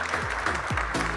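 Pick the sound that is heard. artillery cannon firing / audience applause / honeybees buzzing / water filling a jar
audience applause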